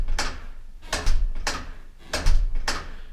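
A door that won't close properly clicks and knocks in the night, with five sharp, fairly loud bursts at irregular intervals.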